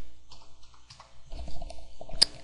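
Several quick keystrokes on a computer keyboard as numbers are typed in, close and crisp, with clustered taps and a sharp final press.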